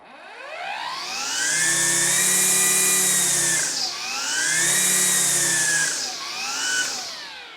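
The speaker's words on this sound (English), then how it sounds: "when I pull the trigger" A Makita XGT 18-inch cordless string trimmer revs up loud and close, holds a steady whine for a few seconds, dips briefly, then surges again in three sustained bursts with no talking.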